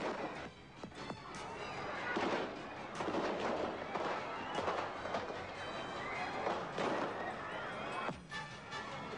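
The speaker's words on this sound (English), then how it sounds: "they opened fire with automatic weapons" Automatic weapons firing into a presidential reviewing platform during an assassination, a dense crackle of rapid gunshots and bursts, loud and continuous throughout, with commotion and shouting mixed in.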